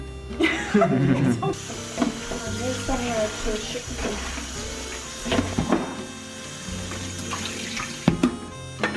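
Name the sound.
tap water running while washing cut cabbage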